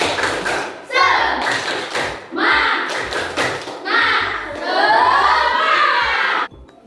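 Classroom of children doing a rhythmic spirit clap, bursts of claps in a patterned beat with short pauses between groups, children's voices chanting along close by.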